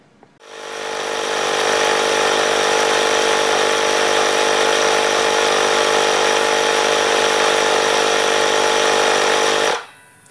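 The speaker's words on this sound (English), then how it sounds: "I'm just gonna go ahead and fill up my air tank there to about 120" A Black & Decker portable air compressor plugged into an AC wall outlet runs continuously filling its air tank, a loud steady motor drone starting abruptly and cutting off near the end, close up with no talk.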